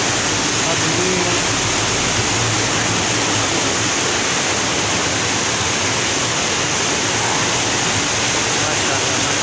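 A cold water stream flows steadily near a historic mosque in Abbottabad, a dense, constant rushing wash filling the whole clip with no breaks.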